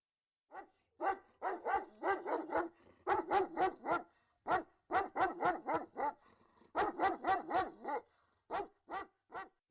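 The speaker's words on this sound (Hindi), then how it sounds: "दूर एक कुत्ते की भौंकने की आवाज आती है" A dog barks in the distance in quick repeated bursts, sharp yaps grouped in rapid runs separated by short pauses, moderately faint against a quiet background.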